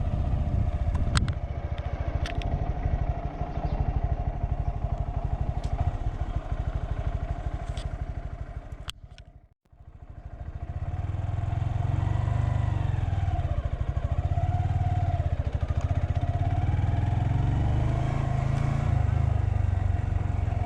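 A 125cc Honda Grom ABS motorcycle ridden steadily along a road, its small engine droning continuously with wind rush, briefly fading almost to nothing midway before returning at a steady level.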